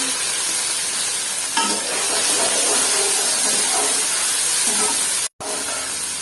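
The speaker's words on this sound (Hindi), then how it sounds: "सबसे पहले हम अपनी भिंडी को फ्राई करेंगे" Okra fries in half a cup of oil over a high flame, giving a continuous loud sizzle and hiss with occasional stirring scrapes and one brief dropout.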